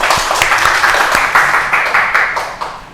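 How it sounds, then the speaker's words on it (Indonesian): A classroom of pupils clapping together, loud, rhythmic group claps in distinct repeated bursts, close and roughly in unison for a few seconds. "tepuk tangan untuk Mbak Dewi."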